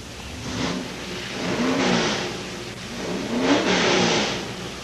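A Plymouth Duster and a Ford Torino drag racing at London Motorsports Park in 1992, their engines revving in two rising, swelling surges, fairly close and loud, with no one talking.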